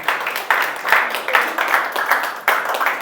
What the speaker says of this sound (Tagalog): Palakpakan nga natin ang Panginoon!